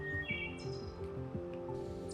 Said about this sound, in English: you will be sure to hear the flute-like songs of the wood thrush that nest within the forest.